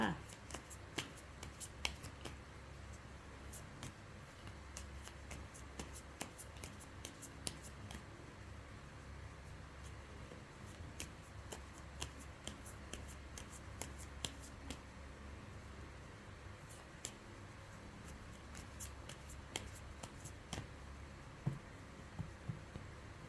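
Tarot cards being shuffled and cut for a daily reading, a long run of soft riffling and sharp card snaps repeating throughout, with someone talking at times.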